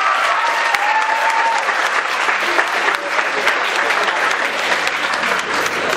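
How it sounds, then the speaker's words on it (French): An audience at a presentation and speech event applauds, giving dense, sustained clapping from many hands at a steady loudness with no pause. "Il faut applaudir Madame Aïda."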